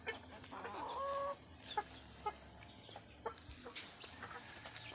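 A chicken clucks in short, uneven bursts close by, with a few sharper squawks standing out against a quiet background.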